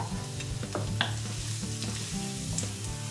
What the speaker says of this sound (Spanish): Las verduras ya están listas, así que ahora a la sartén. Echamos primero el ajo para que vaya soltando su sabor.